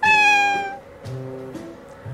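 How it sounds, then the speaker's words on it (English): A domestic cat meows in a long, clear, high-pitched cry, followed by two shorter, softer mews, close and alone with no talk. "Amazing, it's a cat."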